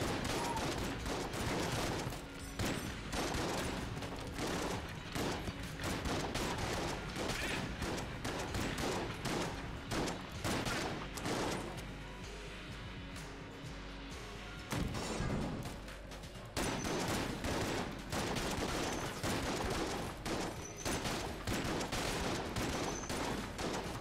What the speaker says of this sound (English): my goal was literally just to shoot a shit ton of shotguns into the middle of this room